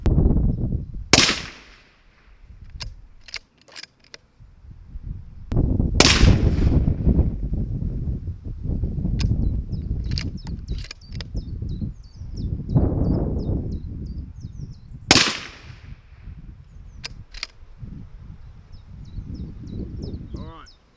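Remington 700 Mountain SS stainless rifle firing outdoors: three sharp, loud shots spread several seconds apart, each followed by a rolling echo, with wind noise and a voice talking between shots.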